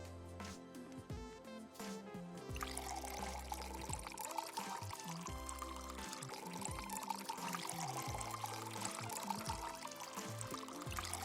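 Liquid pours steadily and continuously into a glass with a bright splashing fizz in a flask puzzle video game, layered over electronic game music and effects.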